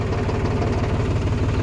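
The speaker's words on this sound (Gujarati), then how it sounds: "ટ્રેક્ટરમાં બેસી જાય છીએ હવે અને હવે ચલાવીએ" Tractor engine running steadily, a loud, even low-pitched throb with a rapid pulsing rhythm and no break.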